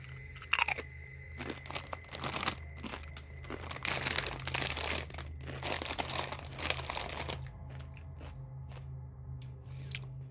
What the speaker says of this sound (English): I'm snacking on Doritos Cool Ranch.